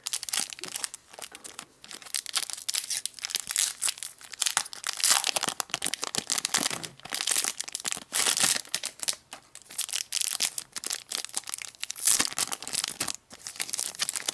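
Cardfight!! Vanguard mini card sleeves in their plastic packaging crinkle and crunch continuously as they are handled up close, steady rustling bursts with brief pauses and no talk.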